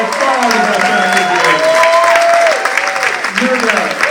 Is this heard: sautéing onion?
no